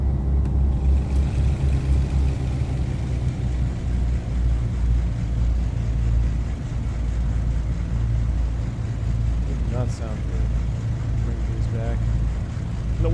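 A loud, continuous low drone of Beech Duke aircraft engines in a flight simulator, rumbling in texture and steady throughout, with a brief higher whine near the end.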